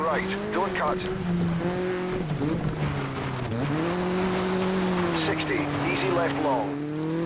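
Mitsubishi Evo X rally car in DiRT 2 races with a steady, loud engine note that rises and falls through gear changes and corners, with tire squeal and skidding over gravel and a voice talking over it throughout.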